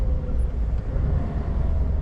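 A bus drives past on a road in Norway, its low engine rumble steady and moderately close throughout.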